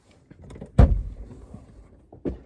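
A car door unlatches and swings open with a sharp thud near the start, followed by faint rustling and a softer knock near the end, close by with no talk.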